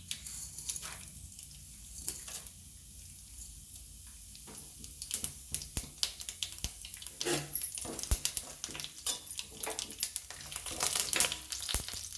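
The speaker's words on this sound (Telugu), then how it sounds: "పోపులు బాగా వేగినాయి కదండి" Tempering spices crackle and sputter as they fry in hot oil, faint at first and then growing into busy popping bursts, close by.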